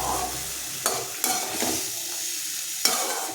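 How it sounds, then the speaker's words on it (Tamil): Black-eyed pea pods sautéing in oil over a low flame, a soft steady sizzle with occasional stirring scrapes and clicks of a spoon in the pan, close and without talking. "அப்படியே எண்ணெயிலே வதக்கிக்குவோம், லோ ஃப்ளேமில் வச்சு."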